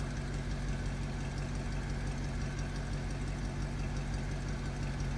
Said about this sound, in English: Okay, we're going to start this Thunderbird up for you